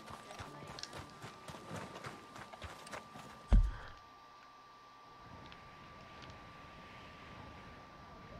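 Horse hooves clip-clop at a steady trot in the video game Red Dead Redemption 2 for a few seconds, then a thud and the steps stop, leaving a faint hum.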